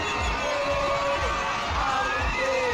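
A large crowd of fans cheers and shouts to welcome the Madagascar national football team home in Madagascar: a loud, continuous roar with horn-like tones and steady low thumping pulses throughout.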